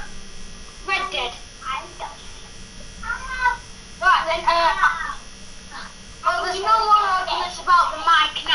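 A person imitates a cat with a series of drawn-out meow-like calls, some rising and wavering, over a steady low electrical buzz, while other people talk nearby.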